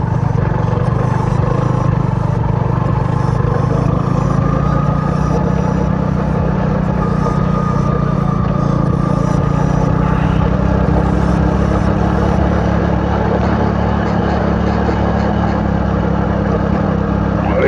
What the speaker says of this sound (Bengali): ফার্স্ট গিয়ারে নামাই, আস্তে আস্তে বাবা উঠি